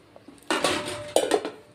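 A plate is set down over a pot of potato, cauliflower and paneer curry, giving two close metallic clanks of dishware, the second followed by a short rattle, with no talking.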